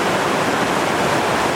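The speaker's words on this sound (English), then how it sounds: "we're down here at Chainsaw Rapid, down here in the beautiful Lower Gauley Canyon" Whitewater thunders at Chainsaw Rapid, a sharp bend on the Lower Gauley River in a canyon at about 2800 cfs, a loud, close, unbroken roar of rushing water.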